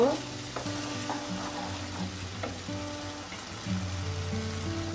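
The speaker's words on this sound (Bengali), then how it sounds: "মশলাটা ভাজা ভাজা করে নেব।" Spices with turmeric and salt sizzle and crackle steadily in hot oil, close up, with occasional stirring scrapes and no talking.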